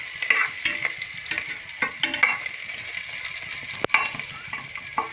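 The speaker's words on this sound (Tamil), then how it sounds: "மிதமான சூட்லேயே நம்ம வந்து இதை ஃப்ரை பண்ணுவோம்." Fenugreek, cumin and fennel seeds frying in oil over medium heat for a mutton bone and butter bean tamarind salna, a steady close sizzle with intermittent stirring scrapes and one sharp clack.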